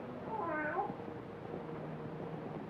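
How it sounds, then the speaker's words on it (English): A cat meows in a graveyard setting, with one drawn-out, wavering cry near the start over a steady low background hum. "how often have I told you to keep that cat from desecrating my graves?"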